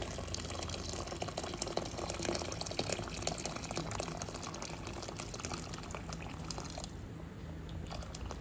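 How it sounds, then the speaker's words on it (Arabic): Water poured into a pot of rice for Egyptian koshari, a steady, continuous splashing and hissing rush that fills the whole stretch at low level with no talk. "ودلوقتي اهو هنحط الميه"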